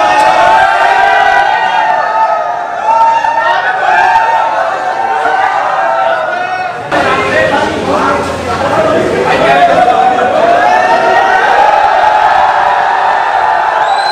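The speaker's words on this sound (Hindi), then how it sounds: "देख रहे हो, रश देख रहे हो, शोर शोर देख रहे हो भाई, शोरूम में और कुछ नहीं है" A packed crowd of fans at a Kawasaki motorcycle showroom meet-up cheers, whoops and shouts loudly and continuously, with a surge of chanting midway and chatter mixed throughout.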